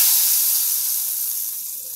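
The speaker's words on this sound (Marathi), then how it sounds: "ही फोडणी आता वर ओतून देणार आहे" Hot tempering with red chili poured over dal, giving a loud, bright sizzle and hiss that is strongest at first and slowly fades over two seconds.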